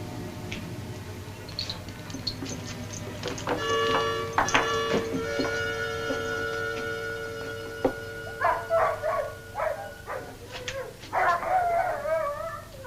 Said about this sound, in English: I wonder what's bothering those dogs.